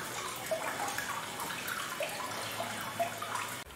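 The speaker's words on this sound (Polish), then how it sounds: "Woda szumie, właśnie tu z góry spada woda." Water rushes and splashes down from above near a hotel in Ustroń, a steady close trickling stream with small bright drips and no talking.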